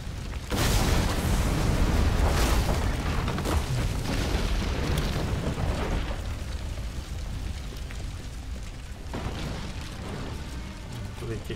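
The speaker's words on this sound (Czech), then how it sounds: "dobrý výbuch." A loud, booming explosion in the video game Assassin's Creed Unity, a heavy blast that opens the clip and then rumbles on and slowly fades under continuous game noise.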